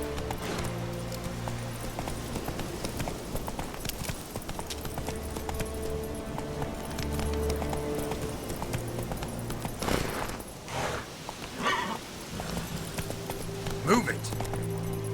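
Horse hooves clip-clop at a steady gallop in The Witcher 3 on Xbox One, loud and continuous over a game music score, with a spoken voice calling out briefly.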